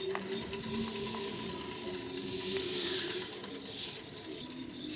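Hand sanding on the wooden skeg of a 1975 catamaran under restoration, a steady close rubbing and scraping that swells into brighter hissy strokes, with a low hum running underneath.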